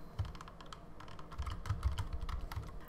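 Close, quiet keystrokes on a computer keyboard while PHP code is written, a fast irregular patter of clicks with occasional heavier key thumps.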